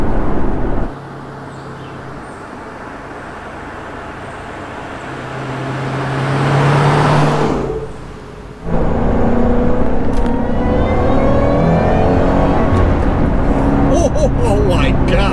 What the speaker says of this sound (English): Oh, you hear that blower whine.